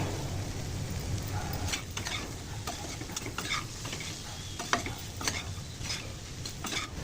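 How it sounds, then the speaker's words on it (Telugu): A bobbarlu fry snack sizzles steadily in a pan as curry leaves go in, with a constant crackling hiss close by and scattered spoon scrapes and clinks against the pan. "కొద్దిగా ఒక ఐదు నుంచి ఆరు రెమ్మల కరివేపాకు వేసుకోవాలి"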